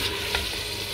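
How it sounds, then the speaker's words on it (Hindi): Beef with onion, chilli and tomato fries in hot oil, a brief burst of dense, even hissing sizzle with one faint scrape of stirring. "ये जी तकरीबन 1 मिनट हमने फ्राई किया है।"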